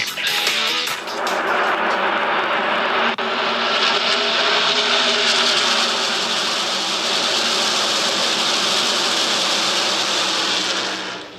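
NASCAR race cars at Texas Motor Speedway in Fort Worth during the Worth 400, a loud, sustained engine roar that swells as the pack passes close by and keeps droning on.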